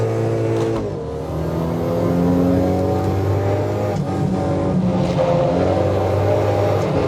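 Front-wheel-drive car engine in the racing sim Assetto Corsa EVO, revving and accelerating with rising and falling harmonic whine through gear changes, loud and close with no talk over it.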